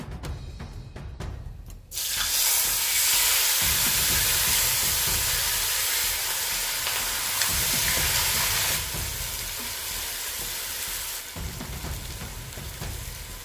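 Hilsa fish dropped into hot oil with a bay leaf and garam masala, erupting into a loud, sustained hissing sizzle after a quieter start, then easing slightly but staying strong throughout.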